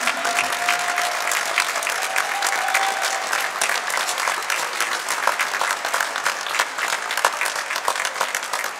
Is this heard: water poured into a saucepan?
no